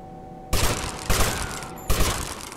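M4 assault rifle fired in GTA Vice City Stories: three loud, sharp bursts of gunfire with echoing tails, spaced apart, and no talk over them.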